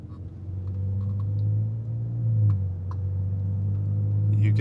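A Nissan Frontier pickup truck cruises and shifts gears, a steady low engine drone inside the cab with a slight rise and dip in pitch as it changes gear, moderately loud and continuous.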